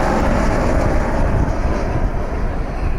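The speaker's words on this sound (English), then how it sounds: "Delta Connection Embraer E175 taking off in the background." Delta Connection Embraer E175 jet taking off in the background after a storm, heard as a loud, broad, rumbling roar that stays steady throughout, with no voices.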